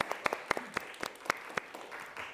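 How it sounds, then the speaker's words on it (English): Studio audience at a late-night comedy show clapping, sparse and fairly quiet with individual sharp claps standing out from a light spread of hands. "You can clap again for that."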